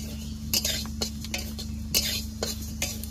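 Moong dal dry-roasting in a pan is stirred with a utensil, giving quick scraping and clinking strokes at an uneven rhythm over a low background hum.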